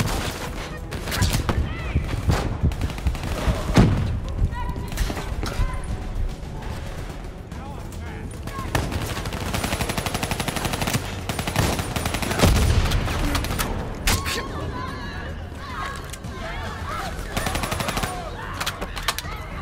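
Sustained automatic gunfire in a Call of Duty: Black Ops III firefight aimed at a gunner positioned up high, loud and dense bursts running throughout with shouted voices mixed in.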